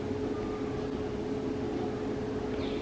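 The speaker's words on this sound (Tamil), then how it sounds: "இப்போ எல்லா போண்டாவையும் இதே மாதிரி நம்ம பொறிச்சு எடுத்துக்கலாங்க" Banana bondas fry in hot oil in a pan, giving a steady, even sizzle and crackle with no pauses and no voices.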